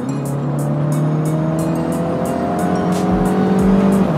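A Mini John Cooper Works F57 cabriolet in sport mode accelerates hard, its exhaust note rising steadily and loudly close by, with rhythmic bursts and pops layered over the climbing engine drone.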